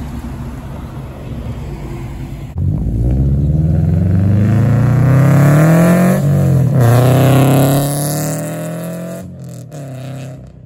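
A car engine at a Tampa cars and coffee meet revs hard and climbs in pitch, loud and close, then eases off as the roar fades.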